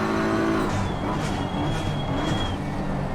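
A GT race car engine in Assetto Corsa Competizione roars continuously at high revs, with other cars close by, loud and sustained without a break.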